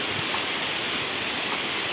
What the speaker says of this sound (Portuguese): É muita água, olha isso, ó, correndo.